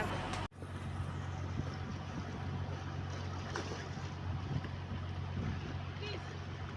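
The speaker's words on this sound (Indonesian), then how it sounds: "Jelang sore, kapal pun mulai kembali ke pelabuhan." A tour boat on a day trip around the islands near Labuan Bajo heads back across the sea to harbour, its engine holding a steady low drone. Wind and water wash sit over the drone, with a brief thump near the start.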